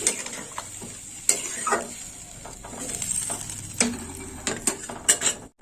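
Spiced masala frying in a pan for a Bengali prawn curry with three kinds of vegetables. Water is poured in, setting off sizzling and bubbling, with repeated sharp clinks of a metal spoon stirring against the pan, close and fairly loud.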